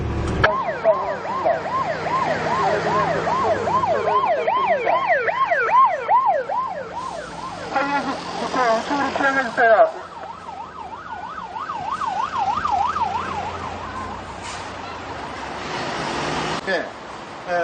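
Several fire engine sirens wail and yelp at once during a fire safety car parade in Korea, their rising and falling tones overlapping loudly as the vehicles pass nearby.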